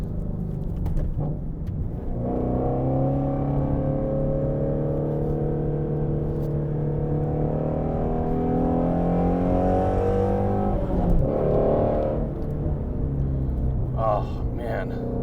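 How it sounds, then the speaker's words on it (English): A Shelby GT350R's engine drones inside the cabin while driving, a steady deep harmonic resonance that holds for about nine seconds before a brief rattling burst and easing off; continuous and close, with no speech heard. "every time I get in this car to drive it, I hear more resonance and rattles"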